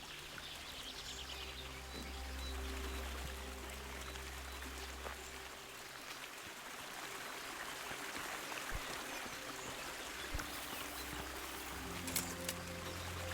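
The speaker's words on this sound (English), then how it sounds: "Well, there is that waterfall there." Waterfall in the video game Kingdom Come: Deliverance, heard as steady, broadband rushing water that stays constant throughout, with low hums and faint scattered ticks in the background.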